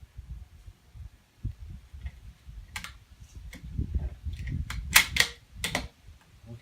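Rifle bolt worked to chamber a round, a quick series of sharp metallic clicks and clacks near the end over soft handling rustle, close and fairly quiet with no talking.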